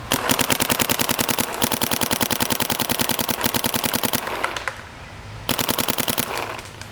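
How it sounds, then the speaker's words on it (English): A Planet Eclipse LV2 paintball marker fires a rapid, steady stream of loud close shots outdoors, a dense burst lasting several seconds, a brief pause, then another quick volley. "I'm gonna shoot my LV2 here."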